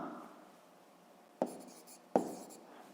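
Pen or chalk writing during a sixth-grade math lesson, with soft scratching strokes and two sharper taps or impacts standing out near the end, quiet and close with no talk.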